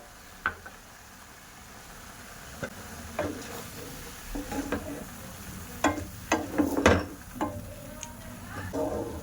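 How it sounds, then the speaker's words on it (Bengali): Grated carrots simmer in thickened milk for a carrot phirni, giving a faint sizzling bubble broken by scattered spoon scrapes and sharp clinks against the pan. "দুধ দিয়ে এবার ভালো করে গাজরটা সিদ্ধ করে নেব।"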